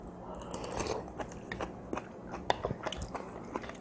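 Close-up crunchy chewing of kimchi in kimchi ramen, crisp bites and crackles repeating irregularly, fairly quiet with no talking.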